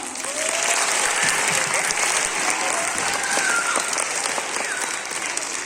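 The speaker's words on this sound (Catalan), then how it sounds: "Un fort aplaudiment, no?" A crowd at a Christmas school concert claps loudly and continuously, dense steady applause filling the space throughout, with a few faint voices mixed in.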